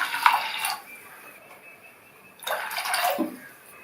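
Half a cup of water poured onto powdered jaggery in a pan for sweet poli filling, two short splashing pours with a quiet gap between, close and clear.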